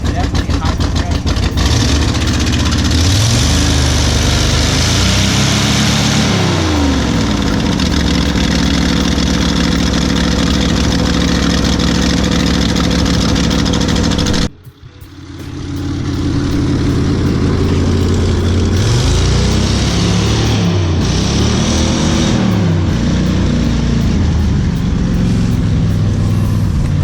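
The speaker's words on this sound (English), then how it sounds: "Start getting a low RPM, she starts running pretty rough." A 1967 Ford F250 camper special, an abandoned truck, idles roughly at low RPM with a loud, uneven, lumpy engine drone that cuts out sharply midway, then picks back up and continues throbbing unevenly.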